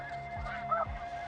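Snow geese honk in short nasal calls over a steady background of distant flock noise, with a few distinct honks standing out near the listener.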